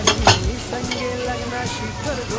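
Spices such as turmeric go into a frying masala paste for a crab chimbori sukka dish, giving a close, steady sizzle with spoon-against-pan stirring clinks near the start, while a voice speaks over it.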